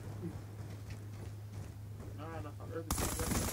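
Gunfire in the video game Black Ops 2: a muffled background of game action gives way to a loud, dense burst of shots near the end, with a brief voice-like sound just before it.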